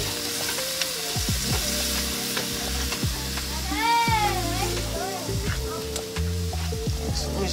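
Minced garlic sizzles in a hot skillet while being stirred, a crackling fry with scraping clatter of the utensil, and a cat meows briefly in the middle.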